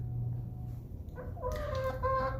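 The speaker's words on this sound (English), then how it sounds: "Over here, we have Braveheart, our ayam cemeni chicken" Silkie and ayam cemeni chickens cluck close by, with a run of harmonic calls rising after a quieter start over a steady low hum.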